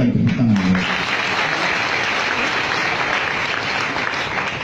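An audience at a religious testimony gathering breaks into loud, sustained applause that fades slightly toward the end, with a brief voice at the very start.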